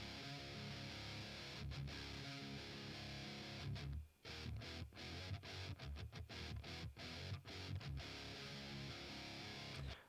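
Heavily distorted guitar power chords, played low on the root notes in a recorded track, form a dense, loud, continuous wall of sound broken by a few short rhythmic stops.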